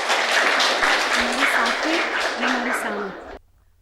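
Audience applause at a Gandhinagar women's poetry recital: dense, steady clapping that stays loud for about three seconds, then cuts off abruptly into quiet.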